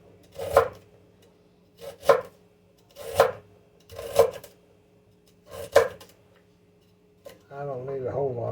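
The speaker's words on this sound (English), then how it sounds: "I just chop that celery" Celery being finely chopped with a knife on a cutting board: five sharp, evenly spaced clusters of thuds and taps, then a steady rustling of handled stalks at the end.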